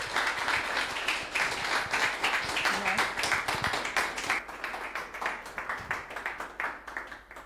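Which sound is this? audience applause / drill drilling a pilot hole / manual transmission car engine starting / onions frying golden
audience applause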